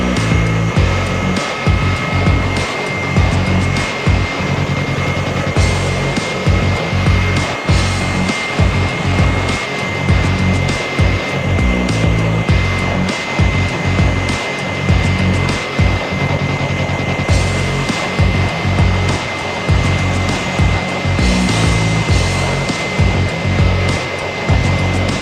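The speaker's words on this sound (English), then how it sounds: "on high speed, just go ahead and whisk it until it becomes nice and fluffy" An electric mixer whisks Swiss meringue on high speed, a loud steady motor whir with a rhythmic thumping of the whisk against the bowl, continuous and close without talk.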